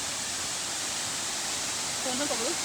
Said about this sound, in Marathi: हां आता तुम्हाला वॉटरफॉल दाखवतो बघा.